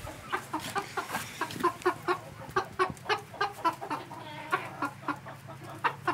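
Brahma chickens and roosters clucking nearby on a small farm: a steady run of short, rhythmic clucks, some louder and sharper, continuing without talk over a quiet outdoor background.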